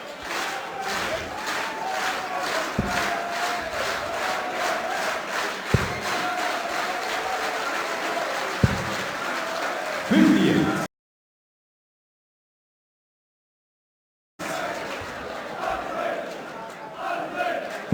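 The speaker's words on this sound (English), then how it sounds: "The crowd trying to get behind the man from Bremen." Darts crowd at the PDC German Darts Masters 2014 in Germany, steady loud roar and chanting behind Bremen's Andree Welge, with a few sharp thuds, then a brief silent gap before the crowd noise returns.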